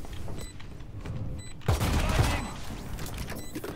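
Rapid bursts of gunfire in a first-person shooter video game crackle close and loud over a busy background of game sounds, with a sharp intensified volley midway through.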